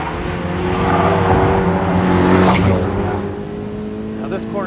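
Turbocharged, emissions-legal Mazda MX-5 NC engine pulling hard through a quick left-right-left track chicane, a steady loud drone that swells mid-pass and eases off, with a voice talking over it.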